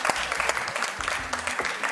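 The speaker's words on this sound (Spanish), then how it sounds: "Un aplauso para o noso convidado de hoxe." Brisk applause from a studio audience greeting a guest on a cooking show, close and lively, with a low voice murmuring briefly beneath the clapping.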